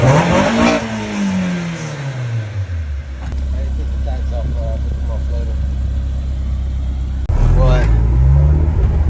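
A Honda S2000 CR engine revs up and falls back, settles into a steady drone, then revs sharply again, loud and close.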